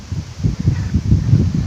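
Wind blowing at a cave site, a close rough rumbling and buffeting with uneven surges against the microphone.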